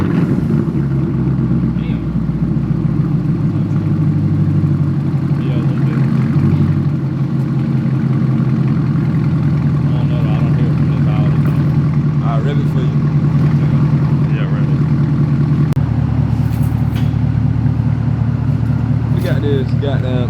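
A straight-piped Chevrolet Camaro SS engine rumbles steadily and loudly through its open exhaust for about twenty seconds, with people talking over it.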